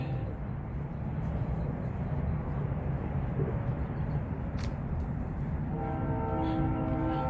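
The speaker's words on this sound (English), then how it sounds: "Hear the trains." Trains pass along a riverside on an overcast day, a continuous low rumbling roar heard from a distance with faint bird calls and a brief horn-like tone near the end.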